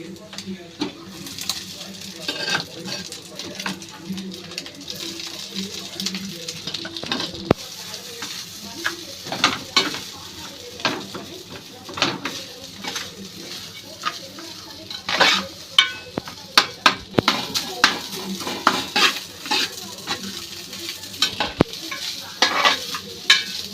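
Egg fried rice being stir-fried in a pan, with steady sizzling and frequent scraping stirs of a spatula against the metal, close and fairly loud, continuing throughout with occasional clinks of utensils.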